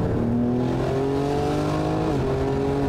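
A BMW M3 fitted with an aftermarket exhaust system revs steadily on its own, a loud continuous engine note whose pitch climbs and then dips briefly, with no talking over it.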